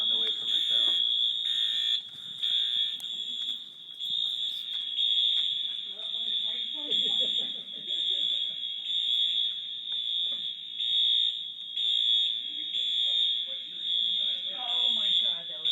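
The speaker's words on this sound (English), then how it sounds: "We're about an hour into the fire alarm going off at our office." An office fire alarm shrills nonstop in a loud, piercing high tone that keeps pulsing, with people talking and moving around beneath it.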